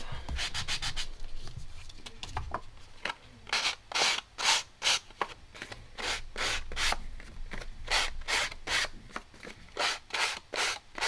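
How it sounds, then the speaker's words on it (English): A sanding block smooths die-cut paper edges with quick, rhythmic rasping strokes, close and clear, in bursts of rapid back-and-forth rubbing. "you can use a sanding block or a nail file."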